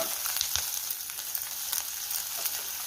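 Rasam powder stirred into a crackling pan of fried ajwain leaves, a steady close sizzle with soft scraping stirs running throughout, no voices.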